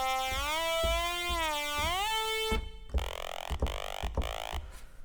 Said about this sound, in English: So it's like that gritty, nasally saw lead that we should be